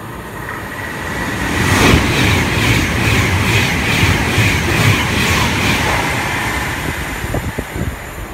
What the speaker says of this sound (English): Virgin trains class 390, Pendanida, about to pass through platform number 4.